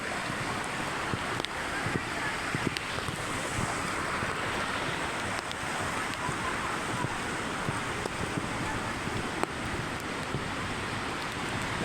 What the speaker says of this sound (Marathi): ए छोटा धबधबा आहे छोटा धबधबा